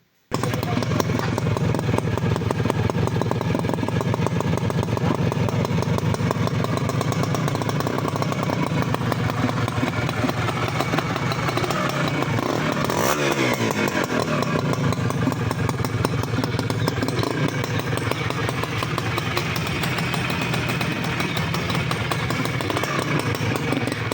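A Honda CDI H100S motorcycle engine runs continuously up close, a loud buzzing rumble with a brief rev partway through.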